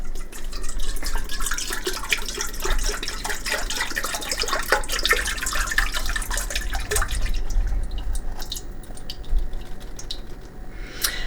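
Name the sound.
pouring a 16-ounce carton of liquid egg whites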